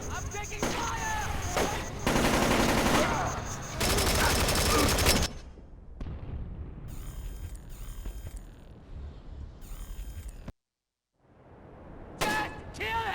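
Gunfire in the video game Splinter Cell: Chaos Theory, loud rapid bursts of automatic shots in several volleys separated by short pauses and a brief silence, with mechanical clicks and a voice shouting amid the firing.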